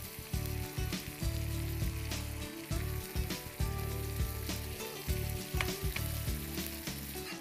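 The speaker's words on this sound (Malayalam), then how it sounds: "ചിക്കൻ നന്നായി ഫ്രൈ ആവണം" Chicken fries in butter in a pan for pasta masala, a loud close sizzle broken by frequent rhythmic clatters and scrapes of stirring.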